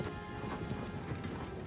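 Galloping horse in Shadow of the Colossus, a dense rapid patter of hooves over a steady rumble, fairly close and continuous, with no talk.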